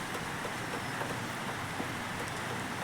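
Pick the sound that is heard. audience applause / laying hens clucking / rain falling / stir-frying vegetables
rain falling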